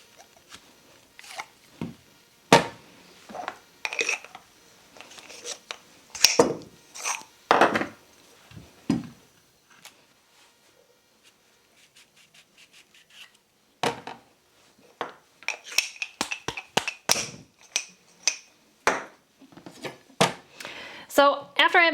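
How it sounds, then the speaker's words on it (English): Apples being cored and chopped with a knife: a series of sharp, close knocks and scraping cuts in irregular bursts, with quiet pauses between them. "I'm gonna core them and then I'm going to chop them into little squares"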